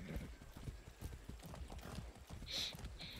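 A horse in the Far Cry 6 video game trots with quick, rhythmic hoof clip-clops at moderate distance, and a short whinny-like sound cuts in near the end. No one talks.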